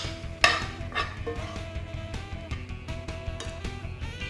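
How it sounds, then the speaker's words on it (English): Meat being stirred and mixed in a pan, with soft scraping, light clinks of utensil on metal and a faint sizzle, fairly quiet with no talking. "We're gonna add our meat in. Get that in there. We're gonna mix this all around."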